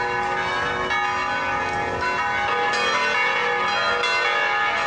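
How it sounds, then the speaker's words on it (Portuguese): Church bells in the historic colonial city of Belém, Pará, rung by pulling the rope, keep up a dense, continuous metallic clangour with rich overlapping tones, loud and steady throughout with no voices. "Correndo e segurava no badalo do sino e batia no sino"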